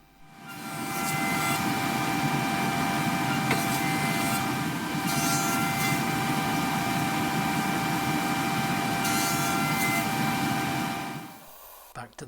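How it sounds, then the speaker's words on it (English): A wood planer running through a piece of wood for a model Citroen 2CV: a loud, steady whining drone with a harsh rasping cut lasting about ten seconds, then spinning down to quiet. "Planer."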